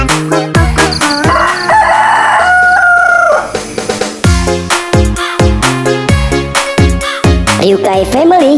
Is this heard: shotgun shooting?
no